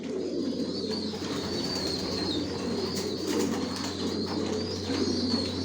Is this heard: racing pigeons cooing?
yes